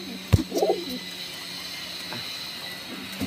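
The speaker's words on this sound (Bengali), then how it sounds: "পটকা না এই যে পায়রা" Brief soft cooing from Punjab and Malaya breed pigeons kept in a loft, a single low murmuring coo near the start followed by quiet background hum.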